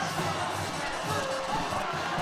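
A football crowd roaring on its feet after a game-winning touchdown at a Friday night high school game, a dense, steady wall of cheering and shouting that fills the whole moment.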